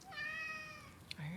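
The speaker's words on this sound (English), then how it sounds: "Hi, cat." A cat meows once in a drawn-out, tonal call near a workbench electronics rig, followed by a brief tap and a low voice speaking softly right after.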